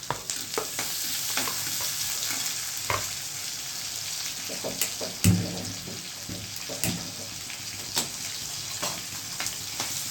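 Steady frying sizzle of tomatoes in a hot spiced-oil tempering, with occasional stirring clinks and scrapes, loud and close, no talking.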